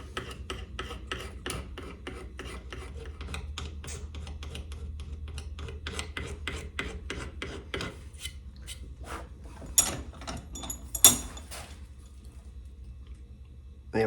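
A guitar bridge from a 1943 Martin D18 being roughened for gluing gives off quick, repeated rasping scrapes. A steady run of strokes thins toward the end, with a couple of louder scrapes near the finish, close and fairly quiet.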